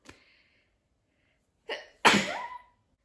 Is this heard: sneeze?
yes